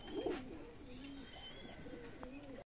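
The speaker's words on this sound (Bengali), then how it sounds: "এটা হচ্ছে আপনার টেডি কবুতর" Teddy pigeons cooing at close range, a few soft low coos over a steady background hum, with faint chirps mixed in.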